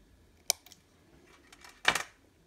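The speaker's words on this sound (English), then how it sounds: "I'm going to go ahead and snip this." Cutters snip a plastic part on a model railroad locomotive in a quiet room: one sharp click, then a few faint ticks, then a louder crunchy snap, close up.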